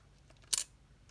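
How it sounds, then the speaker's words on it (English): A Nikon Nikkormat EL camera body gives one short, crisp mechanical clack as its mirror lockup is released, close and brief against near silence. "then you can release the mirror lockup"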